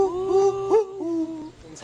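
A bird calls outdoors near a mountain, giving a clear, hooting, owl-like tonal call that repeats about three times with a steady pitch and slight upward bends, fairly close and loud.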